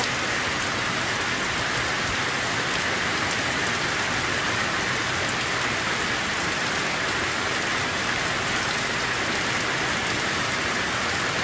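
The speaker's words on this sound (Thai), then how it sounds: "นอนฟังเสียงฝน" Steady, dense rain pours down continuously, a broad hiss of drops hitting surfaces with no voices, even and unbroken throughout.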